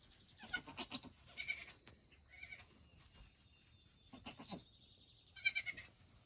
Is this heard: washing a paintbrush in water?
no